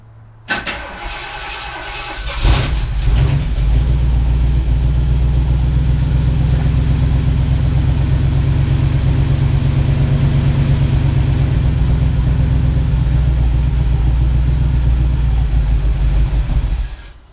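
A 1978 Ford Bronco's 351M V8 with a lifter that has just pumped back up cranks and catches, then settles into a loud, steady, rumbling idle that runs on close by for over fifteen seconds.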